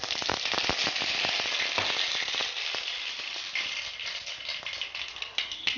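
Mustard seeds fry in hot oil while making dosa, giving a close, steady sizzle scattered with sharp crackles and pops.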